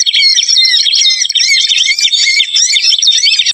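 A small bird, a cinereous tit, chirps continuously in rapid, high, twittering phrases, loud and close with nothing else audible behind it.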